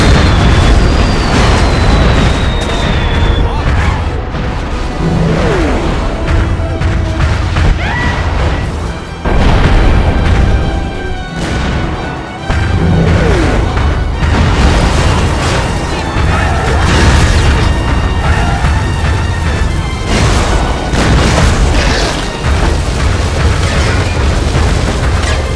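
Missile barrage explosions in the video game Destroy All Humans! Big Willy Unleashed, a loud continuous roar of booms and blasts layered over game music and effects for the whole stretch.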